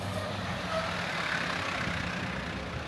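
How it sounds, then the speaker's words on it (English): Trucks roll through downtown Millsboro, a steady broadband rumble of heavy traffic heard from a distance, continuous and without voices. "trucks still rolling through downtown Millsboro"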